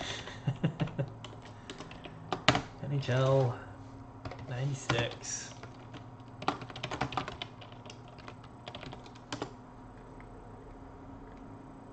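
Computer keyboard typing in quick irregular bursts close by, fading to sparse taps, while someone talks over the first part.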